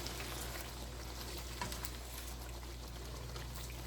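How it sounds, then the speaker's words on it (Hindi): Water is poured into fried masala in a pan for a Maharani Mughlai chicken gravy, producing a steady hiss and bubbling sizzle that continues without a break for the whole stretch. "आप थोड़ा सा पानी इसमें ऐड कर दें"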